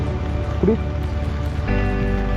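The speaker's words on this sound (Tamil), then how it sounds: "சரியான மழைங்க, மழை நிற்கவே இல்லை." Heavy rain pours steadily around a motorcycle on the forest road from Valparai to Athirapally near Sholayar Dam, a dense, constant hiss of water that swells briefly louder near the end, with no clear talk.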